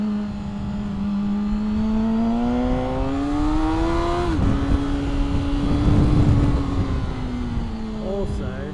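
A motorcycle engine drones steadily while riding out to fill up with petrol ahead of a cyclone, its tone climbing through a gear, dropping briefly at the shift, then holding a steady pitch under road and wind noise.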